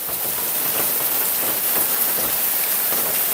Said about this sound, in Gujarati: બહુ ધીમી ગતિએ વરસાદ આવી રહ્યો છે બહુ સરસ મજાનો વરસાદ ચાલુ છે